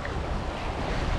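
Sea waves of about a metre wash around a sailboat running downwind under mainsail at night; a continuous, loud, rushing wash mixed with wind noise, with no voices.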